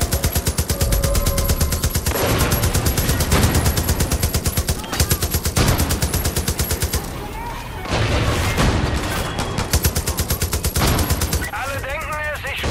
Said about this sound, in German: Die schießen halt.